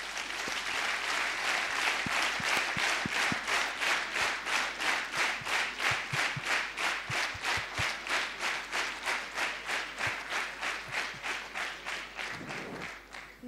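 An audience at a national business convention claps in unison, a loud, rhythmic burst of synchronized handclaps repeating evenly and slowly speeding up before fading out.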